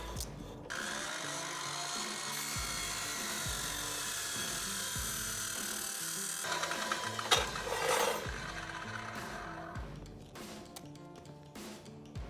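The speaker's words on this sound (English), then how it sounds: "I am done cutting, and right here we've got 20-inch legs, 4 of them." Square steel tubing is cut for burner stand legs with a power tool, whose grinding whine and clattering scrapes come and go close by in bursts, without talk.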